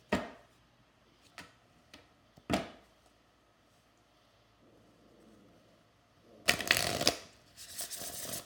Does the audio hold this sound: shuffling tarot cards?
yes